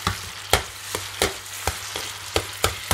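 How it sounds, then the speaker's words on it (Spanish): Beans frying in a pan while being stirred, a steady sizzle broken by regular scraping strokes of the spoon about every third of a second, close and moderately loud with no talk. "Y ahora vamos remezclando y removiendo."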